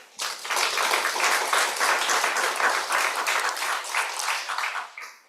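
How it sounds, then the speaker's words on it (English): A conference audience at a sustainable finance panel applauds for about five seconds, the clapping rising quickly, holding full and even, then tapering off at the end. "Please, a round of applause for Catalina"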